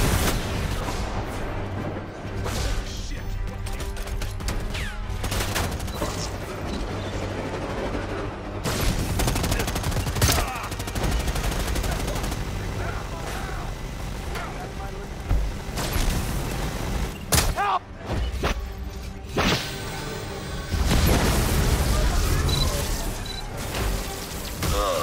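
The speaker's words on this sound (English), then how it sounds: "He's shooting at me." Dense gunfire in the video game Predator Hunting Grounds, with rapid bursts and fusillades of shots alongside booms and mechanical clatter, loud and continuous across the whole stretch.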